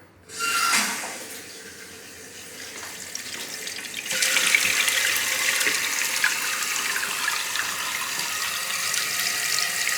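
Water runs into a newly installed toilet, a soft hiss at first that swells into a steady, louder rushing fill heard close up with no voices.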